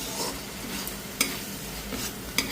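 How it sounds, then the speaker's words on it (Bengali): Onions frying in a pan for a prawn, potato and taro curry, a steady close sizzle with a few sharp scrapes of a spoon against the pan. "পেঁয়াজগুলো লাল লাল করে ভাজা হয়ে গেছে"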